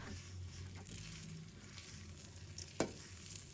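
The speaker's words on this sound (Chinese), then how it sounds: "然后把炸好的南瓜放入锅中，开中小火快速的翻炒" Fried pumpkin pieces stir-fried quickly in a wok with white sugar syrup over medium-low heat, giving a soft, continuous sizzle and scraping with one sharp clank of the spatula near the end.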